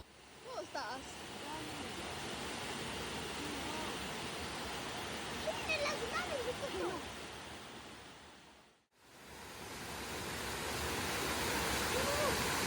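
A waterfall near a hot spring on a rural property gives off a faint, steady broadband rush of falling water, briefly dropping out midway before resuming.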